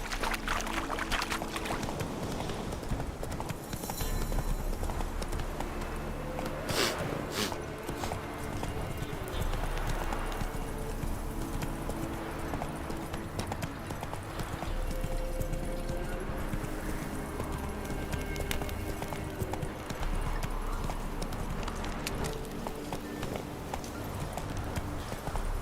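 Hoofbeats of the horse Roach galloping in the video game The Witcher 3, a fast steady clip-clop that runs continuously under ambient game sound, with a faint whinny and a brief voice.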